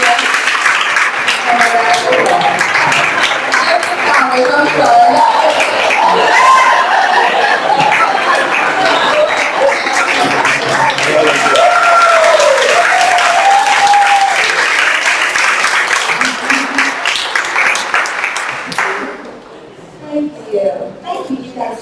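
A graduation award ceremony audience gives scholarship recipients a long, loud round of applause with scattered chatter and light laughter, continuing for about eighteen seconds before tapering off into a few last claps.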